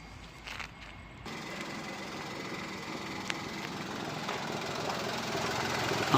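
Idling 2022 Maruti Suzuki S-Presso VXI petrol engine, a steady low hum with light mechanical rattle heard from close by, growing slightly louder toward the end after a brief initial shuffle.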